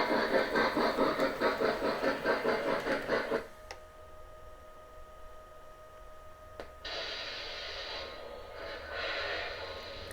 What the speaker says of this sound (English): Engine does have a nice little startup sequence there too.